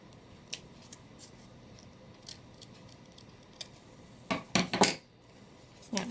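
Scissors snip paper for a paper craft in a few quick close cuts near the end, after faint scattered ticks and rustles.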